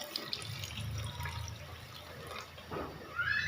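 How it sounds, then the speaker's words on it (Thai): Water trickles steadily into a pot of Thai beef curry (gaeng om beef), a soft continuous pouring wash close by with no talking. "เติมน้ำลงไปนิดหนึ่งเพื่อจะให้มันมีน้ำคลุกคลิกนะครับ"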